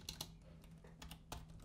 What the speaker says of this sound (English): I just want to type out some quick comments